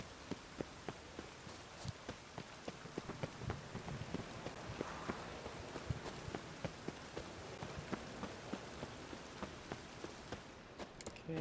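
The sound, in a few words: rain in the video game The Witcher 3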